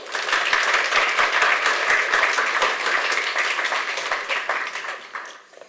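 Warm applause from the audience at a React Native Community Kraków meetup, many hands clapping steadily and close by, holding strong for about four seconds before tapering off and fading out.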